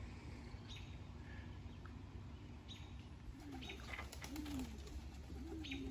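Racing pigeons coo softly outdoors after being let out, several low rolling calls rising and falling over steady background noise, with faint chirps from other birds.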